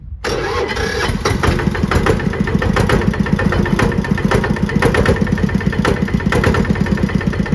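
A KRT-140plus multipurpose farm tractor's engine cranks and catches at once, then runs at a steady, loud, close idle with a fast chugging pulse throughout.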